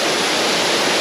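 A hidden mountain waterfall in the Baguio District of Davao City roars as a dense, steady wash of falling water, loud and close.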